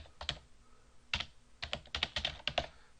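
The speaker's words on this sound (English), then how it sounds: "If you want to type some stuff in here too," Keys clatter in quick irregular bursts as someone types on a computer keyboard, close and fairly quiet, with short pauses between clusters of keystrokes and no voices.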